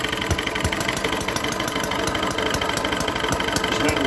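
A tiny Microcosm M93 / Eachine ET8 model engine runs steadily on a dynamo, a continuous close mechanical hum with a rapid ticking chug and no voices.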